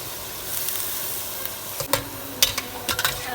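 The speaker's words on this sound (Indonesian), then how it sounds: "Lalu sambil menunggu matang, kita masukkan air ke dalam tumisannya." Shrimp stir-fry sizzles steadily in a pan with water added, a constant hiss broken by a few crackling pops and sputters toward the end.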